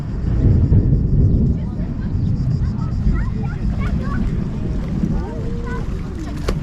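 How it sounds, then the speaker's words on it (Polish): A small boat moves out on a mountain lake surrounded by resorts, its motor a low, distant droning rumble under steady wind noise, while people talk nearby. "Płyną sobie łódeczką."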